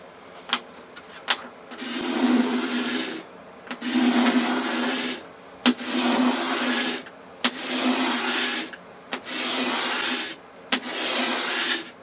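A scraper strips old finish softened with lacquer thinner off mahogany furniture in six long, rasping strokes, each roughly a second long, with brief clicks and taps between strokes, close and loud.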